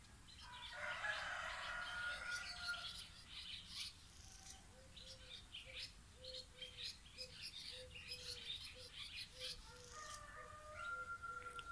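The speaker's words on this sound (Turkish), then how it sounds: "Horozlar, kuşlar. Sabahın güzellikleri bunlar." Birds chirp and call outdoors at a distance on a morning, with roosters crowing faintly and a soft repeated clucking pulse in the background.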